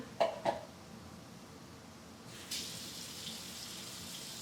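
Black beans rinsed under running water at a kitchen sink, a steady faint wash of flowing water that strengthens after a couple of seconds, preceded by two brief knocks.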